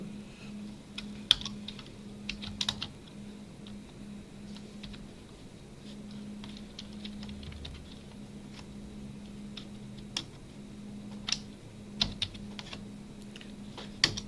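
Computer keyboard typing of Python code, with scattered key clicks and short bursts of keystrokes over a steady low background hum, no talking.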